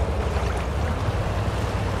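Tank driving through water in World of Tanks, a T26E4 Super Pershing, giving a continuous dense rush of churning water and low engine rumble, steady and loud without pauses.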